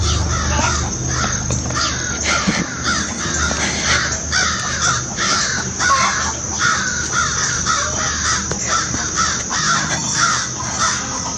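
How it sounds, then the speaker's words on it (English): A group of crows caws loudly and repeatedly in rapid overlapping calls while mobbing a hawk in a tree, continuous and close for the whole stretch with no talking. "there is a hawk in the tree and the crows are having it"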